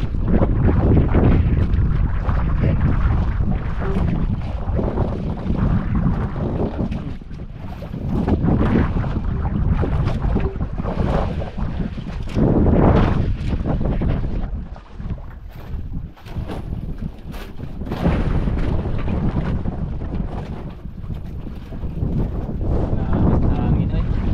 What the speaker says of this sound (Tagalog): Hangin ay.